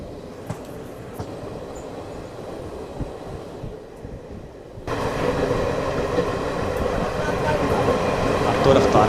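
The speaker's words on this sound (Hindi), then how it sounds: "अब तो रफ्तार बना ली है भाई ट्रेन ने दोनों में भी" An Indian express train hauled by an EMD diesel locomotive with ICF coaches runs past, a steady rumble that swells abruptly midway and stays loud, with rail clatter throughout and no speech.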